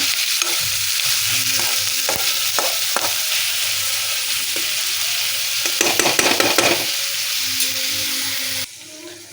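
Onion hits a hot pan and fries with a loud, steady sizzle. Intermittent scraping stirs rise in the middle, and the hiss drops away abruptly near the end.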